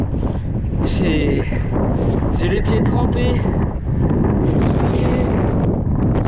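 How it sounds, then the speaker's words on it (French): Strong headwind buffets the microphone of a touring cyclist in a constant loud roar, with a person speaking briefly underneath the gusts. "j'ai le vent de face"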